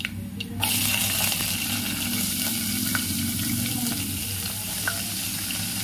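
Onions and tempering spices frying in oil in a home kitchen pan give a steady, loud, dense sizzle, with occasional faint scrapes of a stirring ladle and no talk.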